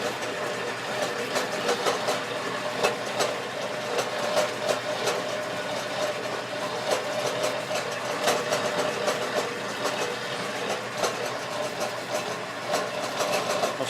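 A bandsaw fitted with a rebuilt descender mod runs with a steady mechanical hum and a faint, regular ticking and clatter throughout, at moderate distance.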